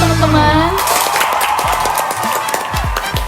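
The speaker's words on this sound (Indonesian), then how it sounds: "Wah, beri tepuk tangan dulu dong teman-teman." An audience at a youth economics talk show claps steadily for a few seconds, a dense patter of hands with some voices and a cheer mixed in.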